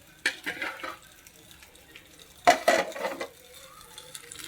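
Rava fry cooking in a home kitchen pan gives a few separate clatters and scrapes of stirring, with a louder burst of clinks and sizzle midway over a faint background.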